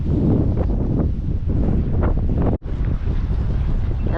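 Strong wind buffets the microphone beside floodwater at a fishing spot, a loud continuous roar with gusting rumble and a brief dropout partway through.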